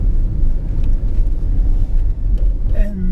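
Steady low road rumble and engine drone from a 1992 Toyota Soarer cruising on a test drive, with wind and tire noise filling the cabin and a faint tonal whine near the end.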